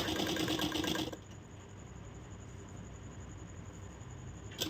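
Sewing machine stitching piping onto the neck part of a blouse: a loud, dense mechanical whir at the start gives way after about a second to a steadier, quieter running hum that continues to the end.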